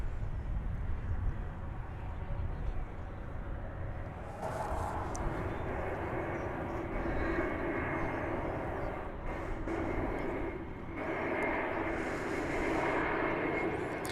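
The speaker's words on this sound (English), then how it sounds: "we're about to bring you the arrival of American Flight 2432 from Los Cabos" An American Airlines Airbus A321, in from Los Cabos, Mexico, on arrival at DFW Airport, makes a continuous engine rumble that swells partway through and stays steady, with a few brief thumps over the roar.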